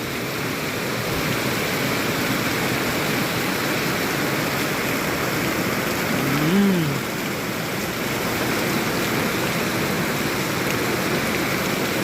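Rain pours down outdoors on a trip in the Thai countryside, a steady even hiss that continues throughout, with one short faint chirping tone partway through.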